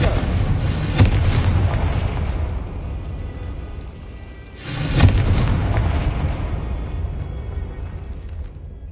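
Confringo explosion spell in the video game Hogwarts Legacy: two deep, booming blasts about four seconds apart, each followed by a long rumbling decay.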